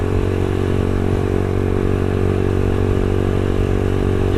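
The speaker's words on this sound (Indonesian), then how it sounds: "Pas sudah di RPM tinggi gua kurang suka juga suara knalpotnya gitu." A Yamaha Xabre 150cc motorcycle with an aftermarket exhaust runs at high revs, a loud, steady, raspy engine drone with a dense low rumble that holds constant throughout, close to the bike.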